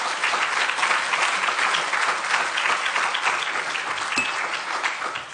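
Sustained audience applause fills a higher-education panel event, a dense, steady wash of many hands clapping close and loud from start to finish with no voices over it.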